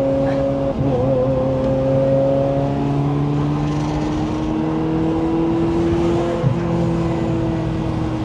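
A Ferrari 355 GTS engine runs steadily at low revs, lugging in too high a gear, with a continuous close-up drone and slight pitch shifts throughout.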